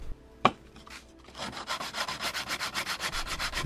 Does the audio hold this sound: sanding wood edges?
yes